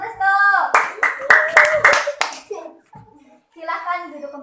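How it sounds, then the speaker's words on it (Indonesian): A classroom of second-grade children gives a short burst of rhythmic clapping for a classmate, several quick claps together, with a voice heard before and after. "Tepuk tangan untuk restu"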